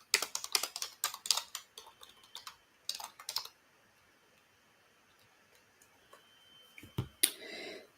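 Rapid typing on a computer keyboard, with dense bursts of clicking keys in the first few seconds, a short flurry near three seconds, then quiet before one final clatter at the end. The keys sound close and fairly crisp.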